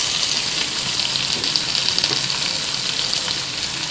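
Chilies and tomatoes land in a pan of sautéed onions for an aloo lobia masala, giving a loud, steady, close sizzle and hiss of frying throughout, with no voices.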